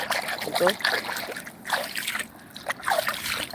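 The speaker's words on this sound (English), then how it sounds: "I'm gonna put my hand in the water a bit," Hand splashing and trickling in lake water at Brooklands Lake, a few soft, close splashes and dribbles repeating under a person talking.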